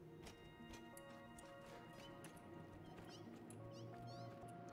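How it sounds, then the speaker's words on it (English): Cats mewling from a cat cave in the video game Satisfactory: faint, high wavering meows over a busy, steady mechanical hum, with scattered ticks and clanks. "I can hear the mewling already"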